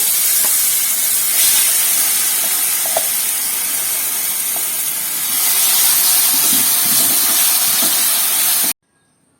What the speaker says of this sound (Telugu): మనము గ్రైండ్ చేసి పెట్టుకున్న చట్నీని దీనిలో వేసేస్తున్నామండి